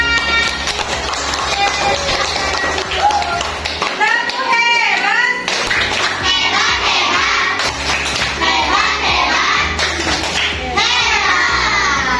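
A classroom of children claps in a rhythmic pattern for a classmate, sharp close hand claps mixed with children's chanting voices and a teacher speaking.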